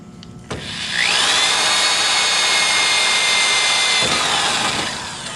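A power drill bites into sheet metal on a tool box project, a steady high whine that rises in pitch and holds for several seconds before tapering off, loud and close.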